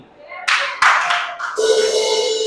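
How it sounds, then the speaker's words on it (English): Young people clapping in church on Youth Sunday, a few sharp close claps followed by a denser burst of clapping, with a sustained tone and voices audible underneath. "It's Youth Sunday. The young people are clapping."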